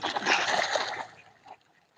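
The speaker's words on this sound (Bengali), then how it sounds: "এগুলো তো হাঁস" Ducks splash and slosh loudly in river water for about a second, then it dies away to faint water movement, on the Brahmaputra River.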